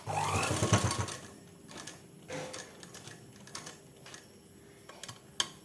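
A sewing machine runs a short burst of two or three tack stitches to fix the drawstring of a churidar pant in place, followed by quieter intermittent clicks and taps close by.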